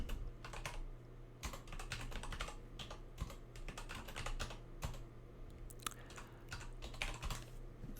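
Someone types a kubectl command on a computer keyboard, a rapid, uneven run of close key clicks and taps with brief pauses, quiet and alone with no talking.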